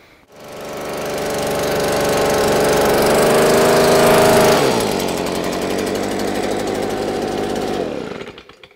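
Loud, steady small-engine roar, likely a backpack leaf blower, blowing weed seeds and debris off a combine's spreaders and top during cleanout, with the pitch dropping partway through as it is aimed elsewhere, then continuing to the end.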